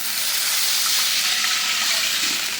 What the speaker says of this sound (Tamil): இப்போ பார்த்தீங்கன்னா 1க்கு 2 தண்ணி ஊற்றணும்.